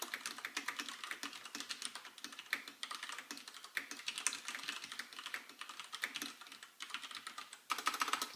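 A Filco Majestouch-2 mechanical keyboard with Cherry MX Brown switches is typed on continuously, giving a close, busy stream of clicky keystrokes with short gaps and no voices.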